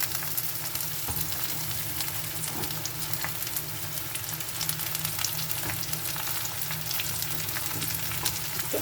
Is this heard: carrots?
yes